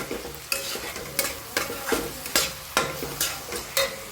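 Rhythmic scraping of a spoon stirring food with moong dal in a frying pan, about eight sharp strokes at a steady pace over a faint sizzle, no voices.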